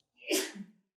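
One sharp human sneeze, close and fairly loud, in a quiet seminar room, alone with no talk over it.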